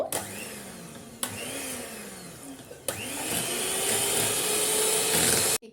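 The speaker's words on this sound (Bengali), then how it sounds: "আর এখন একটা ইলেকট্রিক বিটার নিয়ে আমি বিট করে নেব" An electric beater whips one and a half cups of cold whipped cream: a loud, steady motor whine with buzzing harmonics that cuts in and out in short bursts, then runs continuously and grows fuller until it stops abruptly.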